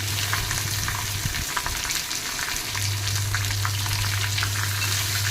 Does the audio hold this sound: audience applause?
no